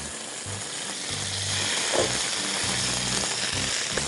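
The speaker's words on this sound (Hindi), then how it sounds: "पैन गर्म हो चुका है, अभी हम ये चिकन इस पैन में रख देंगे।" Marinated chicken skewers laid in a hot pan give a soft, steady sizzle with a few low thumps and knocks as pieces settle.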